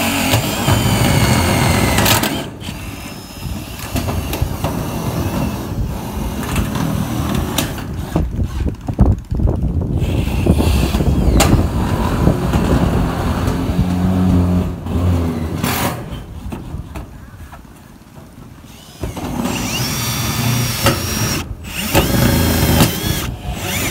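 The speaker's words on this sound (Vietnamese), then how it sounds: "Anh thợ này bắn máy bắn ốp chích rất là mịn" A Milwaukee M18 cordless driver runs screws into metal roofing sheet, with repeated bursts of whirring and grinding broken by short pauses. The sound is loud and close, with no talking over it.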